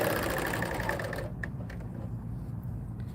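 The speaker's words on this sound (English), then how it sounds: "Yes, Georgia, that is an air threaded serger" An air threaded serger runs in a fast, steady mechanical whir with rapid needle clatter, close and loud, then quiets into a softer hum.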